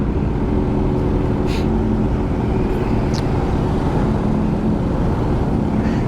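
Dense street traffic crowded with many motorcycles, a steady loud rumble of idling and revving engines close by with no gaps, faint higher engine whines passing through.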